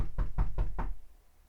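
Four loud, evenly spaced knocks pound on a door, heavy and close, then stop abruptly, leaving quiet.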